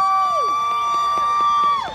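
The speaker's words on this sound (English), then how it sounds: "We say the team name and you cheer as loud as you can." A crowd at a charity walk event cheers loudly for a team name, high shouting voices and whoops swelling together for about two seconds, close and strong before tapering off.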